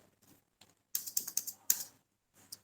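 Computer keyboard keys pressed in a quick run while entering and saving a Tally accounting entry, several sharp close clicks in a burst, then one more isolated tap after a pause.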